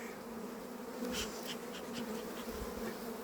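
Honey bees buzzing steadily around an open hive during a frame inspection, a dense continuous hum with individual bees passing close now and then.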